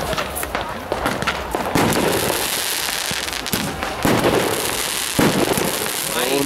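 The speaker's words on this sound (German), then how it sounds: "Haben die denn die von links schon mit die Fontänen geschossen?" Fountain fireworks are being set off at a fireworks gathering, giving a steady, loud hissing and crackling spray broken by sharp pops and bangs throughout, with faint voices in the background.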